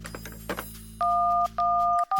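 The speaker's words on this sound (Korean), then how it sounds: "주인은 여기저기에 전화를 시도했지만" Telephone call attempt at an inn's front desk on a fog-bound village night: a receiver picked up with faint handling sounds, then three steady electronic tone bursts in a repeating on-off pattern, close and clear.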